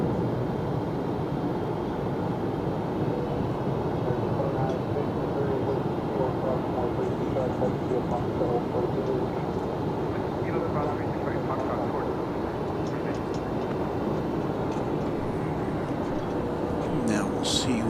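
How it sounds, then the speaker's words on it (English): A Qatar Airways Airbus A350-1000 departing an airport for Doha, heard as a steady, broad engine roar that stays fairly even and continuous from a distance, with faint voices in places. "catch the departure of the Qatar flight back to Doha. That's an A350 1000"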